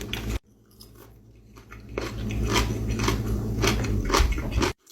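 Close crunching bites of buttered green beans, a sharp first bite followed by a run of crisp, wet chewing crunches right at the mouth, loud and alone.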